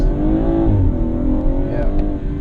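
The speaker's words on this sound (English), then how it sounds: "This is full throttle on sports." A 2017 BMW 440i with M Performance parts pulls hard at full throttle in sport mode, its engine droning loud and steady from inside the cabin, pitch rising and easing across the run with no talk over it.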